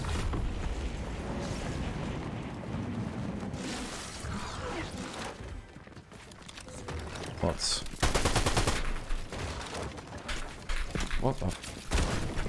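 Gunfire in a shooter video game: bursts of rapid automatic fire and single shots crackle over a busy, noisy mix, with a person talking over much of the shooting.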